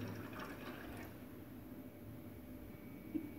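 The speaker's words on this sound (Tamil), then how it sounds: "அதில் முதல் தண்ணி சேர்த்திடலாம்." Water pours into a cooking pot for a dates chutney, a faint, soft, continuous trickle with low splashing, quiet and close, with no talking.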